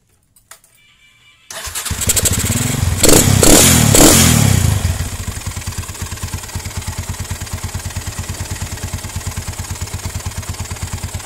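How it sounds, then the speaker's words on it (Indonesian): Honda Tiger motorcycle engine cranks over and fires up after a quiet start, revs briefly with a loud roar, then settles into a steady, even, thumping idle, close by with no talking. "langsung aja kita akan coba hidupkan dulu motornya"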